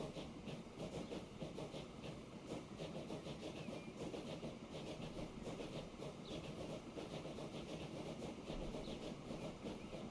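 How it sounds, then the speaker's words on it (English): A slow train rolls past in the Transport Fever 2 railway game, a steady mechanical engine drone with rhythmic rail clatter at a fairly low level, unbroken and without voices. "That thing has to be the slowest train in the history of trains."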